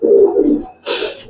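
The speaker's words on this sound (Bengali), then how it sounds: "এটা হচ্ছে একবারে পুরান জাতের কবুতর, রাব্বানি ব্লাড বলে না।" An old-breed Giribaz pigeon gives a short, low coo, then a brighter burst of call or movement noise follows after a brief pause, close and fairly loud.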